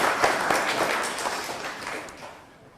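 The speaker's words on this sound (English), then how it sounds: "Yes, let's do a little round of applause." A small church congregation gives a brief round of applause during a harvest service: a burst of hand clapping that starts full and fades away over a few seconds.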